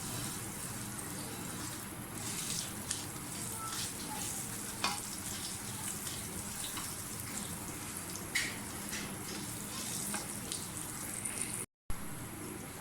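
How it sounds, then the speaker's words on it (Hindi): Cumin seeds crackle and sizzle in hot oil, a busy continuous frying sound with small pops and the occasional stir, close by. "ज़ीरा डाल दें, थोड़ा सा फ्राई करें ज़ीरे को।"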